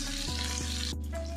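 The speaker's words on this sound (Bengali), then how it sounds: "এই পাপ্তা মাছ খুব একটা বেশি ভাজতে হয় না" Pabda fish frying in a pan, a steady close sizzle with a few soft thumps and clinks from a spatula as the soft fish is handled.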